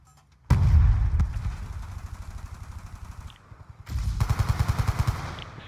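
Video game gunfire as a player shoots through smoke, a sharp burst followed by rapid repeated shots, a short pause, then another fast rattling volley, loud and close.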